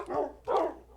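Two quick dog barks from tamed Minecraft dogs near a player's farm, the second slightly louder, in a game setting with no talk.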